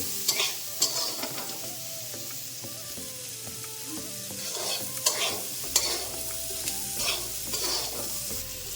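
Chana masala with salt and turmeric being stirred in a frying pan, a sizzling bed with repeated scraping and clinking of the spoon against the pan.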